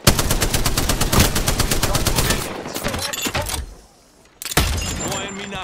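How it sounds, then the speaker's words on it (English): Enemy automatic gunfire in the shooter video game Fuse: rapid, loud bursts of evenly spaced shots that fill the first half, then scattered single cracks, a brief lull, and another sustained burst. "Oh, the enemies are shooting at me."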